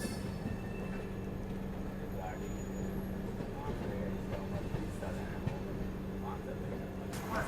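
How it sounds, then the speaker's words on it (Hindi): A Jhansi shed ALCO diesel locomotive shunting in the pit lines gives a steady low engine rumble with a faint hum and scattered clanks. It sounds fairly distant and continuous and is mixed with general yard noise. "झांसी शेड का एल्को लोकोमोटिव यहाँ पे पिट लाइन्स में शंटिंग करता हुआ।"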